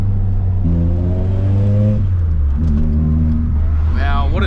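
A Nissan Pulsar SSS engine revs up and down in two clear rising pulls followed by a quick sharp blip, loud and close with a steady idle rumble underneath.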